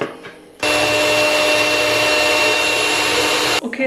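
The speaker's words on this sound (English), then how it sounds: "And now we are going to whisk it." An electric whisk or hand mixer whips coffee into whipped coffee, a loud, steady whirring hum running for about three seconds, starting and stopping abruptly.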